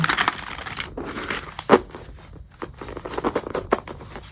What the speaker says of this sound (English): Let's give it one more good shuffle.